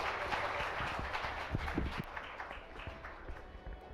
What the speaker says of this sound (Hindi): जोरदार तालियां इन सभी के लिए